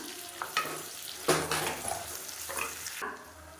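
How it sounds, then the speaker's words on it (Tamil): Sliced onion sautéing in a cooker pan for mint biryani, giving a steady close sizzle broken by several louder bursts of stirring and scraping, with no talk. "ஒரு பெரிய வெங்காயம் நீளமாக நறுக்குனதை சேர்த்துக்கலாம் சேர்த்து நல்லா பொன்னிறமாக வர அளவுக்கு வதக்கி விட்டுக்கலாம்"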